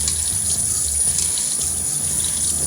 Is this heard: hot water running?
yes